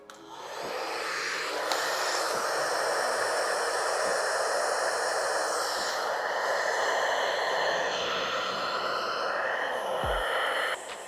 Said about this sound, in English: I just like to blow dry the hair out a little bit